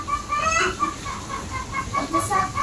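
A hen clucks in short repeated bursts, fairly close, with a few higher squawks mixed in over a low background hum.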